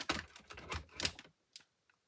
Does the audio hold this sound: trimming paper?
yes